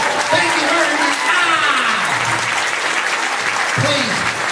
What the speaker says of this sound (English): Don't clap too loudly.